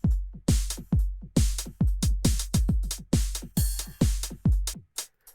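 A punchy electronic drum pattern with deep kicks and crisp hits in a steady, driving rhythm, loud and without voices, ending with a few sparse hits.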